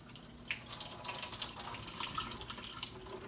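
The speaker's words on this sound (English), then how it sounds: "I'm gonna drain my potatoes here." Water drains off cut potatoes into a sink, a faint, continuous splashing trickle with small irregular spatters, heard close and alone.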